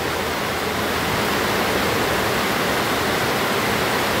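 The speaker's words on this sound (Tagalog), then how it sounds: "Ayan po, lakas ng tubig sa baba, oh." Strong floodwater rushing below a high vantage point, a loud, dense, steady roar of churning water that holds without a break from start to finish.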